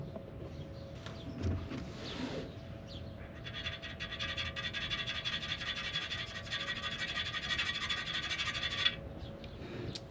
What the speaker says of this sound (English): So I'll just file it down past flat, you know, as flat as I can get it